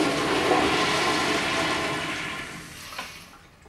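A commode flushes with a loud rushing gush of water that slowly fades and drains away near the end.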